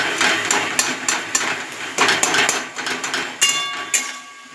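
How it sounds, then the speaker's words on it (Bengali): A metal spatula scrapes and knocks against a cooking pan while stirring tomatoes for a vegetarian pumpkin chhakka, giving irregular close clattering strokes and scratchy sweeps of moderate loudness. "টমেটোটা একটু খুন্তি দিয়ে ঘেঁটে দেবো।"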